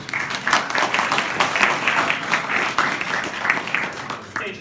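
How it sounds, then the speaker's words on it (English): An audience at a JavaScript meetup applauds a speaker, a steady wash of clapping from many hands in a room, sustained throughout with slight swells and a trailing off at the end. "So, round of applause for Iván."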